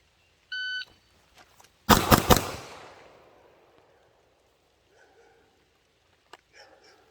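Gunshots in a timed pistol drill drawing from concealment, three sharp close reports fired in quick succession right after a shot-timer beep, ringing off into quiet with faint sounds afterward.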